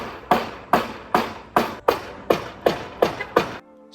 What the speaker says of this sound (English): used fencing nails I just got from Home Depot and a hammer,